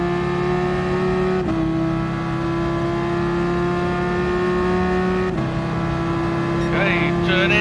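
Race car engine in Gran Turismo Sport holding a loud, steady high-pitched drone that briefly dips during gear changes, close and continuous throughout.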